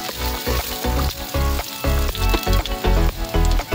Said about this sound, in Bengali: এবার ওতে 2 চামচ তেল দিয়ে ওই প্যানে দিয়ে দেবো কারি পাতা আর কাঁচা লঙ্কা কুচি